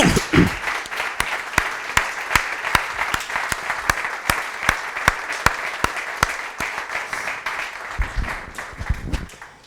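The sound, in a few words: audience applause in honour of Pepe Bornoy and Ángel Doctor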